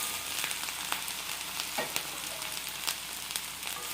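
Cut okra frying with onions in a hot pan, giving a steady loud sizzle with small crackles and occasional stirring scrapes, close and continuous, no voices.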